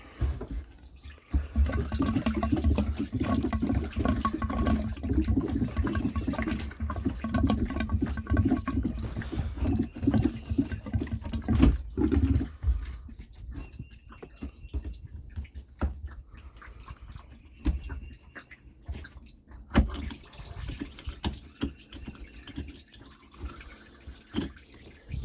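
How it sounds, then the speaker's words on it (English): Coolant drains out of a 2013 Sea-Doo GTI, a trickling, splashing water sound that is strong at first, then thins to scattered drips and faint spatters. "I guess that's one way to drain the coolant."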